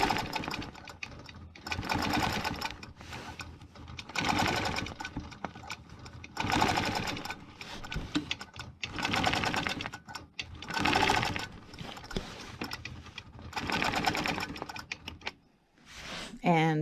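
A sewing machine stitches a stencil hexagon design, running in repeated bursts of rapid mechanical whirring, close and loud, with pauses between them and a person talking in between.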